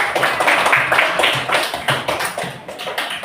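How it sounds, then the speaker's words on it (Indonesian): Classroom applause for a student's correct answer, a lively burst of many hands clapping close by in quick uneven rhythm, strong at first and thinning slightly toward the end. "Kasih aplaus."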